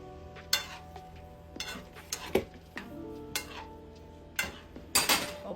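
Pasta being stirred in a pot gives a series of sharp metallic clinks and scrapes at irregular intervals, close and moderately quiet, with faint background hum between strokes.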